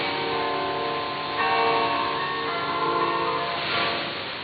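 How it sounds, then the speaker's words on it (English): Radio Netherlands Worldwide's bell interval signal chimes steadily on shortwave 15495 kHz over a muffled, narrow-band background, with no voices. "Right now, we're going to start the bells."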